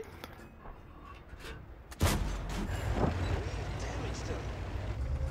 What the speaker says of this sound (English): And just putting shots into the KV-3 here.